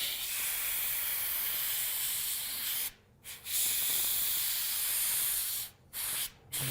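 An airbrush or spray gun sprays candy paint onto a painted bug as a loud, close, continuous hiss that stops briefly near three seconds and twice more near the end.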